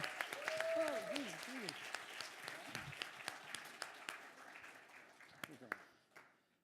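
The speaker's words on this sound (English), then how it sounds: "You're supposed to like clap till she gets all the way up here." A small group at an annual conference claps in scattered, uneven applause that thins out and fades away, with a voice talking over the start.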